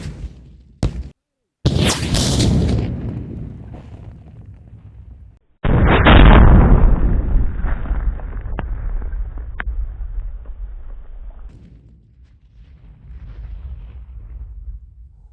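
A C90 anti-tank rocket launcher fires outdoors: a sharp blast and a second heavy boom, each followed by a long rolling rumble that fades into the distance.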